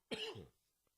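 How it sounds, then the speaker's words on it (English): One sharp, close cough with a short throaty tail, then quiet. "This cough is killing me."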